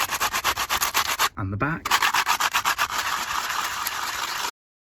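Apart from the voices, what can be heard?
scratching a Delta Classic camera's body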